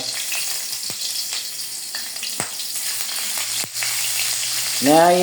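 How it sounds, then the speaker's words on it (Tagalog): Garlic sizzles in a hot pan in a home kitchen, a steady close frying hiss punctuated by spatula scrapes and taps, with a brief louder burst near the end. "Naiprito ko kagad yung bawang."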